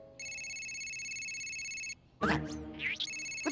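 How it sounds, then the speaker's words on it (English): An electronic telephone rings in a steady repeating tone in a cartoon, cut off briefly by a burst of noisy cartoonish sound before the ringing resumes. "Someone stop the ringing!"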